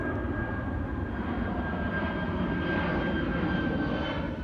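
A steady, loud roar of jet aircraft passing overhead at Busch Gardens theme park, a broad rumble that slightly swells and fades, with no one speaking.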